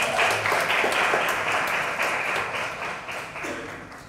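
Festival crowd clapping and cheering steadily at a stage event, loud and dense throughout, slowly easing toward the end.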